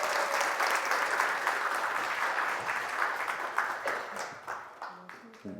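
Audience applause greets a professor of child studies being welcomed onto a panel, a dense, steady wash of many hands clapping that thins toward the end.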